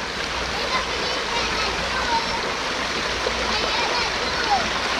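A river stream flows steadily in front of a campsite in Janda Baik, a constant broad rushing and splashing wash heard close and alone throughout.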